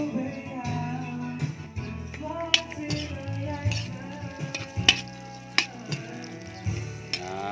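Sliced onions frying in a pan for adobong bihag, a steady sizzle with occasional clinks and taps of a utensil against the pan.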